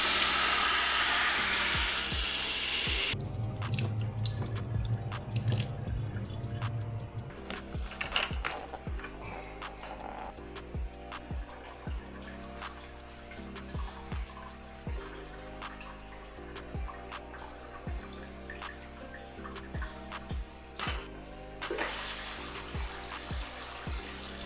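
Aquarium substrate is rinsed under running water: a loud rush of flowing water for a few seconds, then a long stretch of scattered drips and small clinks, close by with no talk.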